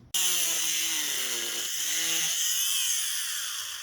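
Strips are cut from a scrap plastic WPL D12 RC car body, a high, steady whining cut that starts abruptly and shifts pitch as the cut progresses, close and alone.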